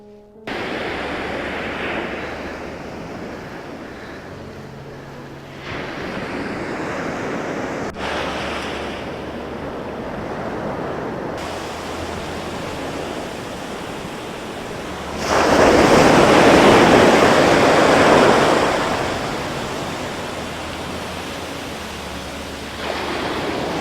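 Ocean waves wash onto a beach under gusty wind buffeting the microphone, with a louder surging rush of surf midway before settling back to a steady roar.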